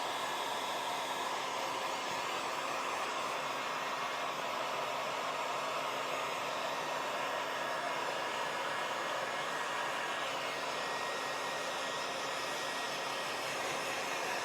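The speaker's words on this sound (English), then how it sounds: "I'm just going to run around again with the heat gun around the edge" Steady hot-air rush of a heat gun sweeping around the edge of a sparkly resin piece, a continuous broadband blowing hiss held at even loudness throughout with no talk.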